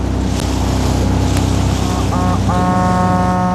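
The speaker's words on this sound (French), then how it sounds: "Ces bateaux à moteur, privés ou publics, sont les taxis du lac" A motorboat engine on an Italian lake drones steadily up close, with splashing water and wind around it and a brief whining tone rising near the end.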